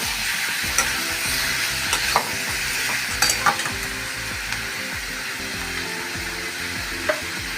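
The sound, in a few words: tomatoes being sautéed in a pan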